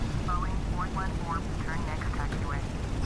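Propeller engines of a B-17 bomber in Flight Simulator X drone steadily at low power while taxiing, a dense rumbling roar that fills the clip as voices talk over it.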